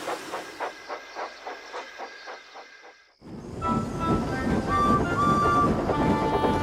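A steam locomotive puffs in rhythmic chuffs that fade, then a loud hissing rush of steam and clatter takes over with a whistle-like tone.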